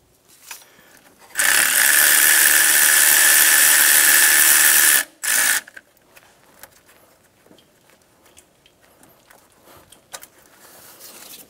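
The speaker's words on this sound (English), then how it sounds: "Remove the one last bolt on the back of the AC compressor." A power ratchet removing the last bolt from the back of the AC compressor on a 2000-2006 Toyota Tundra 4.7L V8 gives a loud, steady whir for about three and a half seconds, then one short burst before it goes quiet.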